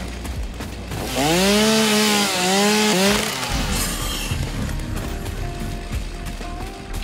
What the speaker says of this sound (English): It's a shame I can't use this chainsaw to fight off the wildlife.